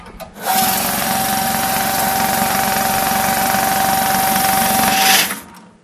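A banknote counting machine runs in one steady burst of about five seconds, a loud, even whirring and rapid fluttering with a sustained mechanical whine, starting and stopping abruptly.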